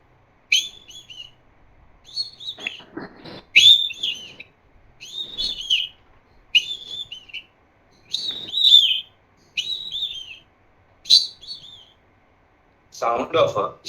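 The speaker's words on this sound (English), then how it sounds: "Sound of a Indian Nightingale." A played recording of an Indian nightingale's song: a series of bright, repeated whistled phrases with short gaps between them, fairly clear but slightly thin, ending in a brief burst of other noise.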